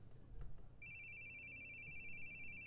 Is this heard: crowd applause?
no